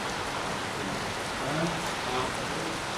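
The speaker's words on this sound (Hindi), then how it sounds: "हवाएं चल रही हैं, अच्छी खासी बारिश भी हो रही है।" Steady rain falls outside a window while wind blows, a soft continuous wash of drops at moderate level with faint low voices murmuring underneath.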